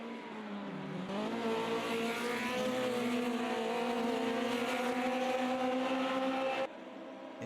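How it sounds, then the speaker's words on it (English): Formula Junior race cars roar through the Parabolica curve at Monza, a loud, continuous blend of revving engines shifting pitch as they sweep past, cutting off abruptly near the end. "The cars are just moving all around through the Parabolica as they're just trying to see if they can get some sort of power on."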